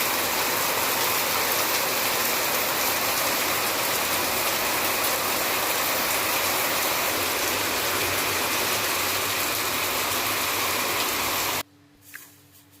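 Heavy rain falls in a dense, steady hiss and patter, loud and even for most of the stretch, then cuts off abruptly near the end, leaving near quiet with a faint knock.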